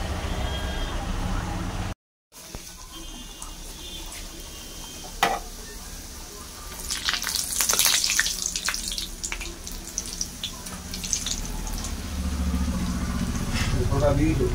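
Kachori curry cooking in a pan with only a little oil, giving a steady wet hiss and sizzle that swells midway, with clinks of utensils and a voice talking over it.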